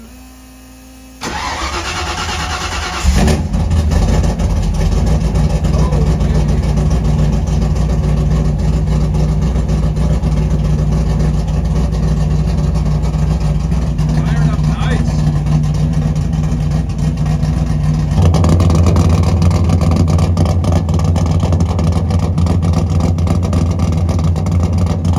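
A car nicknamed Sunburn, just fitted with a new intake, cranks and fires up for the first time in months, then settles into a loud, steady, lumpy idle that swells slightly louder near the end.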